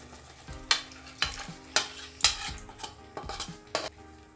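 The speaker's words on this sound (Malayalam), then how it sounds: "ഇതാ മസാലയൊക്കെ തിളച്ചിട്ടുണ്ട്. ഇതാ എണ്ണയൊക്കെ തെളിഞ്ഞ് വരുന്നുണ്ട്." Masala bubbles in a pan for a roasted-coconut shark curry while a spoon scrapes and stirs it in about eight regular strokes over a faint simmer.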